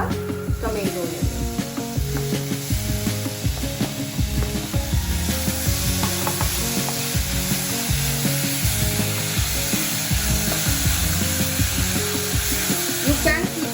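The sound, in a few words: onions and tomatoes frying in a pan on high flame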